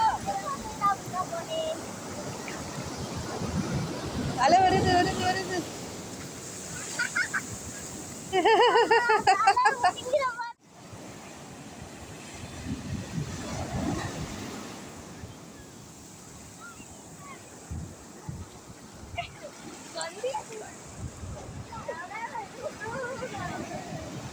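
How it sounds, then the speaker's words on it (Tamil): Ocean surf rolling onto a beach along Chennai's beach road, a steady wash of waves with wind, mixed with crowd voices and children talking nearby, plus a brief louder burst midway. "இந்த அலையோட சத்தம் இருக்குது பார்த்தீங்களா, அதாவது அலை ஓசை"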